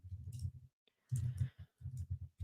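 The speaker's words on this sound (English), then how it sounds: "Sorry for the typing" Computer keyboard typing, quiet bursts of rapid key clicks in irregular clusters separated by short pauses, heard alone without speech.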